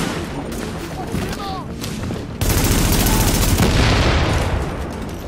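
A heavy blast erupts midway in the video game The Division, followed by a dense sustained roar of rumbling and crackling, after rapid gunfire-like pops and whistling streaks.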